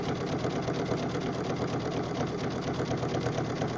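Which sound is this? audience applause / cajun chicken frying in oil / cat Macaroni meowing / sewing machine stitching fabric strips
sewing machine stitching fabric strips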